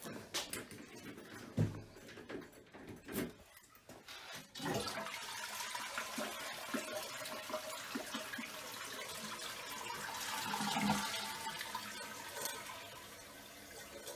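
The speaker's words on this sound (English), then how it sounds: "I'll flush the toilets once each." A toilet flushes and refills with a rushing, gurgling wash of water that swells and carries on for several seconds, fairly close, with no talk.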